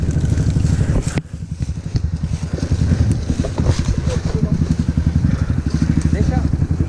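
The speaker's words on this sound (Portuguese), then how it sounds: "Tira a minha moto." An off-road motorcycle engine runs near a waterfall trail, a close, rough pulsing idle and low revving that continues throughout with a brief dip, while riders talk nearby.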